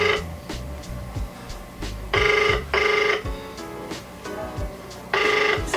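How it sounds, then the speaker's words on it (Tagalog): A phone call is placed and the line rings out. Loud electronic ringback tones sound in short paired bursts separated by quiet gaps, with faint room noise between them. "Tatawagan ko na ha."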